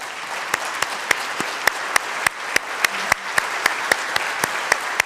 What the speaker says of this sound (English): if you can just give them a round of applause